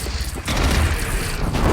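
A bridge being shot down and collapsing in Horizon Zero Dawn, a heavy, loud rumbling crash with a short break, then a sustained roar of falling debris.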